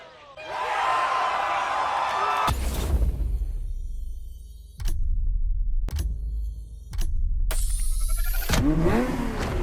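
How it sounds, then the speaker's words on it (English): A Ferrari F50 engine roars and revs in The Crew Motorfest racing game, with a crowd-like swell at the start followed by loud, sustained engine bursts broken by sharp cuts and short gaps. "The Ferrari F50, a bridge between road and racetrack."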